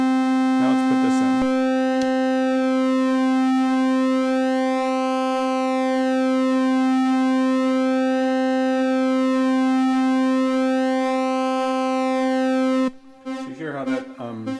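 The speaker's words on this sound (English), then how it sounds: "So you hear how that is modulating the pulse width." A modular synth oscillator holds a steady buzzy tone, its pulse width slowly modulated so the harmonics sweep in a wavering, phasing pattern; brief knob clicks come first and the tone cuts out near the end as a voice begins.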